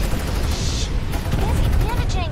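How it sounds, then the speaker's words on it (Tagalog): Gunfire in the video game Farlight 84: dense, loud bursts of rapid shots and booms run without a break, with a voice speaking under the shooting. "Nagbarilan."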